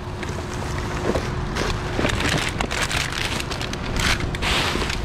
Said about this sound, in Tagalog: nag-uwan na guys kusog ang uwan